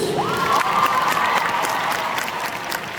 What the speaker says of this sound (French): je vous demande un tonnerre d'applaudissements pour notre jury